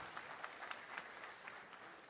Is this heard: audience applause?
yes